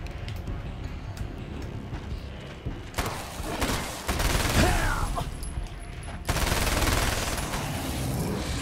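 SMG gunfire rattles in the video game American Nightmare 5 in short rapid bursts, with game sounds and background audio between the volleys.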